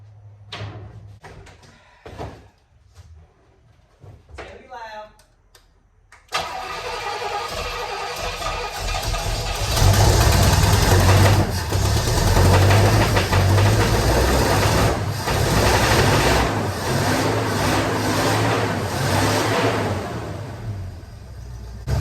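After some clanks and fumbling, a 1973 Pontiac Ventura engine with a Rochester 2-Jet carburetor suddenly starts and settles into a loud, steady, rattling idle that runs continuously.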